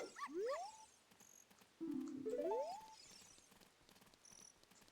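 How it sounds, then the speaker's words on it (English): Dogs roaming the town at night in Ocarina of Time, with short rising synthetic whines and yips in two bursts over a faint ambient background, moderately quiet and without talk. "I kind of appreciate they're just a bunch of dogs roaming the streets at night."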